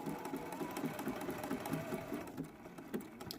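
A sewing machine stitching yellow embroidery-thread darts for appliqué eyes on a quilt block, running in a steady, rapid mechanical rhythm at moderate volume, with a slight slowdown near the end.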